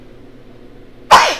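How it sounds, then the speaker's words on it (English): A single sharp, loud sneeze bursts out suddenly after near silence, close to the microphone, with a brief breathy tail. "I'm about to sneeze"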